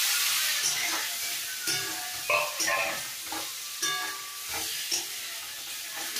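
Boiled potatoes, capsicum and tomato tipped into a pan of papaya curry, sizzling in hot oil as a spoon stirs and scrapes; steady frying hiss broken by several clattering stirs, close and fairly loud.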